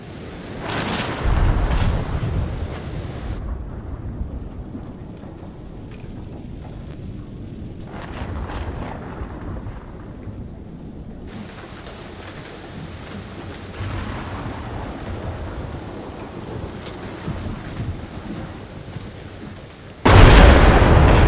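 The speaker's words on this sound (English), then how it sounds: "it's starting to rain" Rain and rolling thunder in the horror game Man of Medan, a steady wash of rain with heavy low rumbles recurring throughout, building to a sharp loud crack at the end, no voices.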